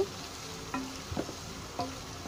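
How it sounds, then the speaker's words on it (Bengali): Spice paste hitting lightly fried chopped onions in a pan for a spicy chicken roast, giving a soft steady sizzle with a few stirring scrapes and clicks, close but quiet, and no one speaking. "পেঁয়াজ কুচি হালকা একটু ভেজে এর মধ্যে বাটা যে মশলাগুলো আমি মাখিয়ে রেখেছি আগে থেকেই, সেগুলো ঢেলে দিব"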